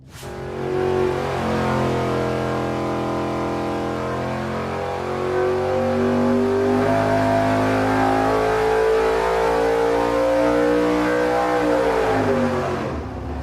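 A nitrous-fed race engine on a dyno pull roars continuously and loud, its pitch climbing steadily as revs build for about ten seconds before a quick drop as it comes off the throttle, with no voices over it.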